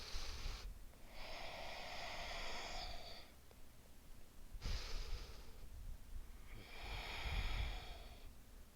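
Slow, deep breathing during a yoga ab flow: two long, audible inhale-exhale cycles with soft airy rushes and quiet pauses between, close and fairly faint, with no talking.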